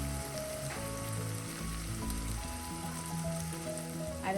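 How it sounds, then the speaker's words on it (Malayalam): Kashmiri chilli powder, hot chilli powder and turmeric fry in oil for a Kerala-style fish curry, giving a steady close sizzle that carries on alone without pause. "എല്ലാം കൂടെ ഈ ഓയിലൊന്ന് മൂപ്പിച്ചെടുക്കാം."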